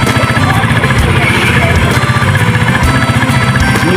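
A motorcycle engine running with a steady, rapid pulsing thump, close and loud, with the engine still cold after being washed with diesel; people talk over it.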